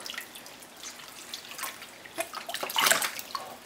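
A 12-week-old baby splashes in bath water, giving soft irregular sloshes and drips that build to a brief louder splash near the end, close by and with no talk.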